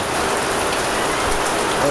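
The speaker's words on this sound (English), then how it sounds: "I'm gonna have to talk a little loud right now because it's storming out. As you can see, rain." Heavy rain pours down during a storm, a dense, loud, steady hiss of drops drumming on surfaces close by, with no break over the stretch.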